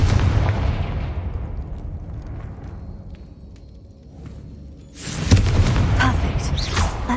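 A Confringo blasting spell goes off in the game Hogwarts Legacy, opening with a loud booming burst that fades over several seconds, then a second strong crackling blast follows near the end.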